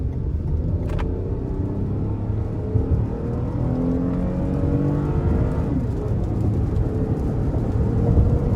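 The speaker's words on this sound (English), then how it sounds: "put the vehicle in sport mode and test acceleration" A 2020 Toyota Highlander Limited AWD accelerates in sport mode, its engine droning steadily from inside the cabin as the pitch climbs through rising gears over continuous road rumble.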